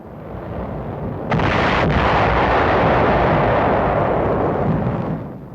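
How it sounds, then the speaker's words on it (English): Wartime newsreel of B-25s and P-51s bombing and strafing rocky Caballo Island: a continuous dense roar of heavy blasts and gunfire, with a sharp burst about a third of the way in followed by sustained rumbling that slowly fades. "B-25s and P-51s strafe and bomb the island. The rocky Caballo hillsides are thoroughly pounded."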